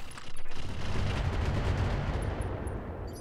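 A gunshot rings out in the tactical game Roguepoint during a headshot attempt, a dense rumbling blast that rolls on and slowly fades, with a few faint high clicks near the end.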